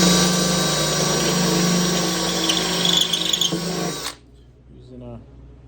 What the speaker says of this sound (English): Using a step bit right now to get my holes punched out for the riv nuts.